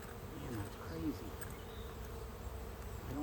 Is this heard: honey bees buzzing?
yes